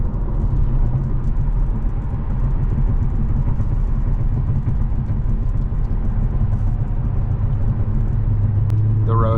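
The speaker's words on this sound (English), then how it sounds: "the road noise is so loud, so bad, so bumpy" Loud, constant road rumble fills the cabin of a tuned Infiniti Q60 with new tires and stock suspension driving over rough, bumpy roads at night, a dense low roar that never lets up.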